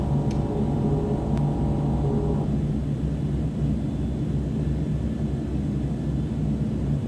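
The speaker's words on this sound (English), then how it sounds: "flaps are going down to full" Inside a Fokker 50 turboprop on approach as the flaps extend to full, a steady loud cabin rumble with a whining tone that cuts off after a couple of seconds, leaving the broad engine drone alone.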